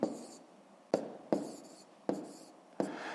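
Pen strokes write numbers during a fifth-grade math exercise, five sharp taps and scratches at irregular intervals, close and quiet, with no talk.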